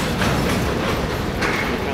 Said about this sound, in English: I know there's a train there.